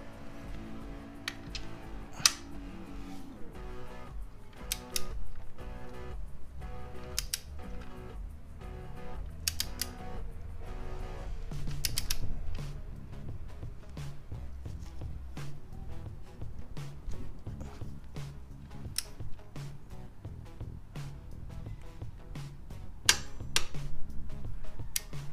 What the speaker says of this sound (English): we're going to use this torque wrench